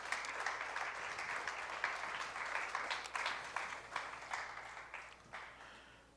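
Church congregation applauding the Lord during a Spanish-language sermon, a steady wash of many hands clapping for several seconds, loud and close, gradually tapering off toward the end.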